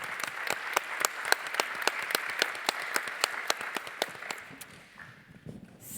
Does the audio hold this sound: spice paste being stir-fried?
no